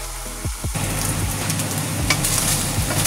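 Beef frying in a pot before water is added for a vegetable soup, a loud close sizzle that runs continuously with a few stirring clatters and scrapes, no voices.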